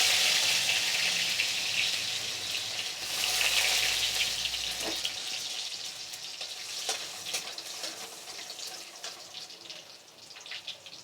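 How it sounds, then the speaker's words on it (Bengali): Chopped garlic hits hot oil in a wok with a loud, bright sizzle that gradually settles into a softer crackle, with occasional sharp pops. "কড়াইয়ে তেল দিয়েছি, তেলটা গরম হয়ে গেছে। এর মধ্যে প্রথমে আমি রসুন কুচিগুলো দিয়ে দেব।"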